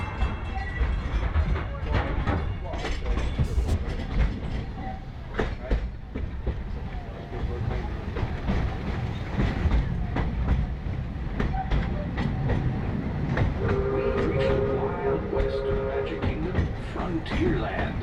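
A steam train on the Walt Disney World Railroad, heard from aboard, rumbles steadily along the rails with rhythmic clacking and clattering throughout, close and continuous, with a brief squeal of wheels near the end.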